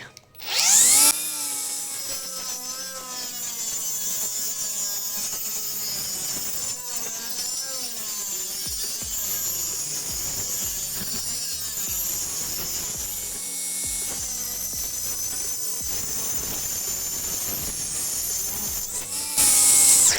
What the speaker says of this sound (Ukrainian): Циркулярна пила.